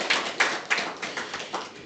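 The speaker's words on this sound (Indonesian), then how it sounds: "Berikan tepuk tangan bagi Tuhan kita." A church congregation claps in response to a call for applause: a quick run of sharp, close hand claps at a loose, uneven rhythm for a couple of seconds.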